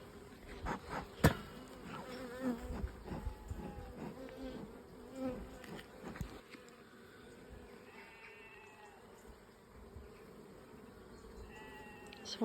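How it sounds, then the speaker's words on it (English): Buckfast honey bees hum steadily at an open hive while a frame is inspected, a soft close buzz with faint individual bees flying past and a few brief knocks early on. "See a bee just here with the blue greeny pollen on its legs at the top of the frame."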